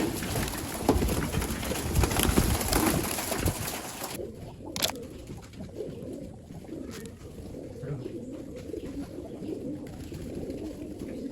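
Pigeons coo softly in the background over a steady rustling, scratching noise as they are fed wheat, with no one talking.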